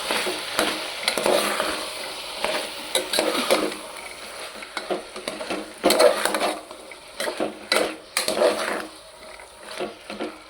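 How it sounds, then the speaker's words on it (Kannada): Ingredients for a pulao fry in oil in a pan, a ladle scraping and stirring in uneven bursts over a low sizzle, with louder close strokes after the midpoint and brief pauses between them, no talking. "ಇದೆಲ್ಲ ಚೆನ್ನಾಗಿ ಆಯಿಲಲ್ಲಿ ಫ್ರೈ ಆಗಬೇಕು."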